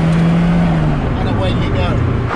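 Ferrari F40 on an open road pulls hard through the gears, a loud steady engine drone that breaks at a shift and carries on lower, heard from inside the car.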